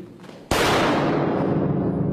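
A single loud gunshot fired at close range into a lightweight bulletproof vest during a firing test cracks out suddenly and leaves a long, dense roaring decay that fills the rest of the moment.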